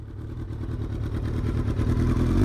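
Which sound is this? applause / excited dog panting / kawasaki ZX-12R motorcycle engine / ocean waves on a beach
kawasaki ZX-12R motorcycle engine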